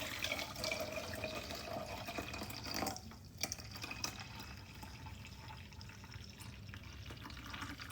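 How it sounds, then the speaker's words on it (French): Boiling water poured from a kettle onto green tea leaves for mint tea, a close, soft splashing trickle that pauses briefly midway, then resumes as a steady gentle pour. "Là, du coup, vous rajoutez l'eau brûlante."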